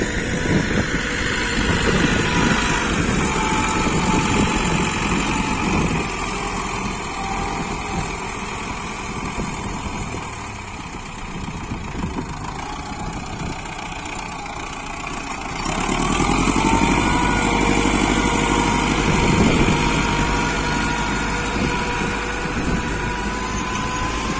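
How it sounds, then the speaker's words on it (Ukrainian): A YuMZ tractor's chugging SMD engine runs steadily for the whole stretch while discing a vegetable plot, rising louder partway through as if revving under load, close by with no talk. "Мотор тягне, мотор тягне, все, димку не кидає"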